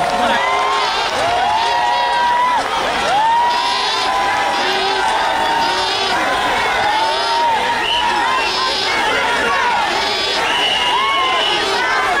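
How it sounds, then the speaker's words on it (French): A large crowd at a Paris rally cheers and whoops loudly, with clapping mixed into a continuous roar of excited voices, children shouting among them. "nous devons mettre notre main ensemble pour applaudir"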